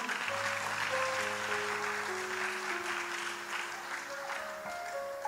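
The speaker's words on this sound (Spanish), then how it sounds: "Denle un fuerte aplauso a Dios." A church congregation gives a sustained round of applause at a discipleship service. The broad, even clapping fills the room for several seconds while soft held musical tones sound underneath.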